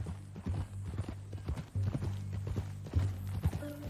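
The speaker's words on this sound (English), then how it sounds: "That a new horse?" Horse hooves clip-clop at a walking pace in the Western video game Red Dead Redemption 2, steady close thuds over a low ambient bed, with short bursts of voices speaking over the footfalls.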